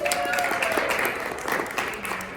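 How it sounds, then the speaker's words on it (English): An audience at a Verizon Innovative Learning event gives Sarah a round of applause, moderately loud and steady, with a voice and some tonal sounds heard under the clapping. "Can we give her a round of applause, please?"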